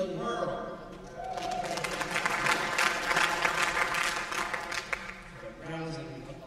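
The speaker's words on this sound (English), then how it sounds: "Rousing applause for everyone." Audience applause fills the hall at a theatre organ concert on a large Kimball theatre pipe organ. Clapping swells to a dense, sustained roar mid-clip, then fades, with voices speaking over it at the start and end.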